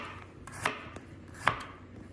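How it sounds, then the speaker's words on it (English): A knife slicing ginger on a cutting board, two distinct sharp chops with a faint tap between them, close and clear against a quiet background. "So I'm just gonna slice it up like so."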